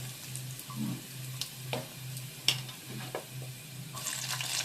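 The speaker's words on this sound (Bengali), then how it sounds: "রসুনটা এর মধ্যে দিয়ে দিলাম আদা কুচিটা আদা কুচিটা দিয়ে একটু নাড়াচাড়া করে নিলাম তেলের মধ্যে" Garlic and chopped ginger fry in hot oil with a soft, continuous sizzle, broken by scattered clicks and scrapes as the pan is stirred.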